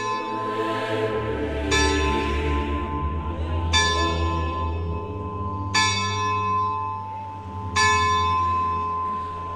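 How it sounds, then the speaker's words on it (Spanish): Church bells ring out in steady, clanging strikes about every two seconds, each leaving a long, shimmering metallic hum that overlaps the next toll. "Muchas de esas campanas tienen nombre."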